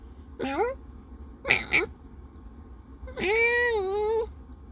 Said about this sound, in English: And then another one of my cats meow.